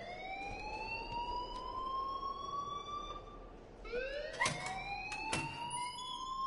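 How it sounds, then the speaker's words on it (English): An alarm in the video game Life Is Strange rings continuously with a rising, whooping tone that restarts partway through, loud and steady with faint background noise. "please turn off that alarm since that's your job"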